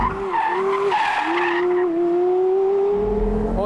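Porsche Carrera GT with its V10 as the rear steps out under steering with the throttle lifted, tires skidding and squealing in a loud, sustained screech close by, rising in pitch, with the engine note underneath.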